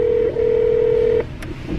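A single steady telephone keypad tone held for over a second, briefly warbling near the start, then a short high beep, dialing out to call a crab shop; clear and alone with faint room noise.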